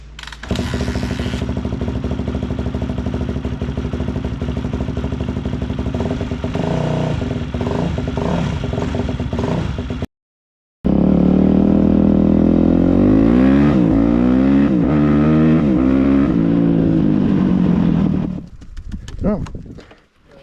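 A Yamaha YZ250F dirt bike engine revs hard while riding, loud and close with rising and falling throttle pulls, a short cut midway, then fading out at the end.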